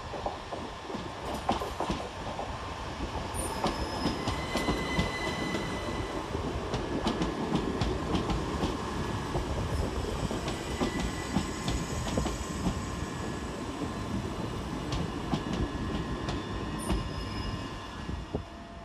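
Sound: electric multiple unit train arriving at station

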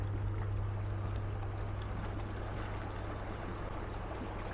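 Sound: wind and lake waves at a reservoir

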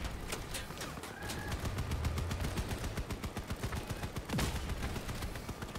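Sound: gunfire in a video game

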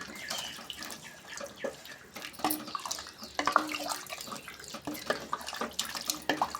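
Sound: water being poured into drumstick curry

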